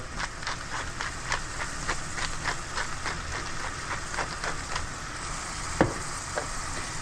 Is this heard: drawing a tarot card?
no